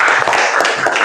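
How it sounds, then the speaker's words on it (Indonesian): A classroom bursts into brief applause for a student named Fadil, a dense, steady patter of many hands clapping close by for about a second, with no voices over it. "Boleh, tepuk tangan untuk Fadil."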